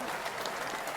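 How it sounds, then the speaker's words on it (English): Audience at a live healing talk event clapping in a continuous, even wash of applause, fairly loud and close, with no voices on top. "Give him a hand clap"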